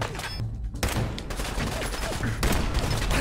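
Gunfire rattles through a Fallout 4 video game firefight, with dense overlapping bursts of shots sounding steadily loud and close for the whole stretch.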